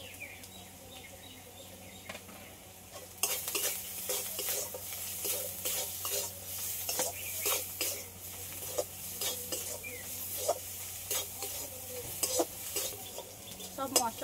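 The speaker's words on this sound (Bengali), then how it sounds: "সব মশলাগুলো একটু লাল লাল করে ভেজে নিয়েছি" Spices fry in a pan with salt and turmeric. A near-silent start gives way to a close, steady sizzle, and repeated metal stirring scrapes and clinks of a spoon against the pan carry through, with no talking.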